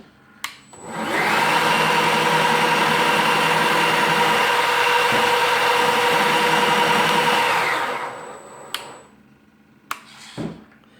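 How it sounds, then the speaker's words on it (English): A 3D-printed snow blower motor on a Traxxas TRX-4 RC truck whines at a steady high pitch for several seconds, starting and stopping abruptly, close and loud, followed by a few small clicks. "when you lift the blower up with this switch, it idles the RPMs down"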